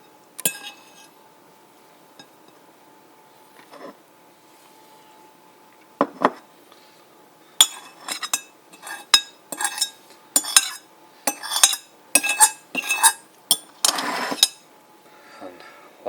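Tuna and sun-dried tomatoes spooned onto a wrap, a quiet start with a few light taps, then a run of rapid utensil clinks and scrapes against a container, close and crisp.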